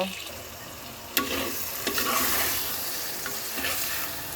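Taro leaves (kochu shak) stirred in a hot pan, a steady close sizzle broken by a few scraping knocks of the spatula against the pan, with no voices.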